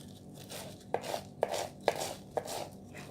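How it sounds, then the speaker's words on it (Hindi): A knife chops mint leaves on a cutting board in steady, evenly spaced thuds, about five close strokes over a soft background hiss, with no voices. "हम इसको थोड़ा सा जो है चॉप कर लेते हैं।"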